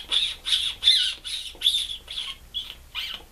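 Squeaky mouth call imitating a distressed mouse, made with clenched jaw and sucking lips to lure a red fox or coyote into bow range; a voice imitates it in a rapid series of about eight sharp, high squeaks, close and alone.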